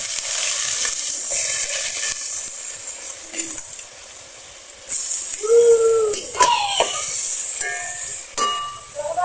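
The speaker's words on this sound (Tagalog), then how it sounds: "gisa lang natin ng konti mga sis" Pork for sinigang sautéing in a pan gives off a loud, steady sizzle and hiss close by throughout, with brief clinks and squeaky scrapes of stirring near the end.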